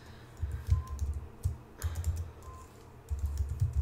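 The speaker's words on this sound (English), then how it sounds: "I am just going to go ahead and type the text that says" Keys on a computer keyboard clatter in quick, uneven bursts of typing with brief pauses between runs, close and moderately loud with no talking.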